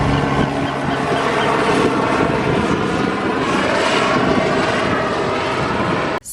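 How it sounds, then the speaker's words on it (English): A helicopter passes overhead, a loud, steady roar with a faint rhythmic chop that holds throughout before cutting off abruptly at the end. "Got a helicopter going over above."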